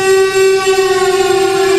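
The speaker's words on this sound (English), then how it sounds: "The next morning, just as the ferry building siren was announcing 8 o'clock at downtown San Francisco, I got Rembrandt on the phone." San Francisco Ferry Building siren sounding the hour downtown, a loud steady wail holding one pitch with rich overtones, continuous and alone throughout.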